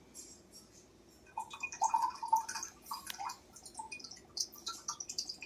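Water drips and trickles during a Shiva puja, with a cluster of close, irregular drops and small splashes that start after a quiet opening and continue alongside faint ringing tones.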